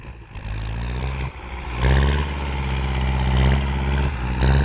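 An old Kubota LC70 tractor engine, an 08 model with round posts, runs loud and close in a steady diesel idle with clattering, its pitch rising slightly as it revs partway through.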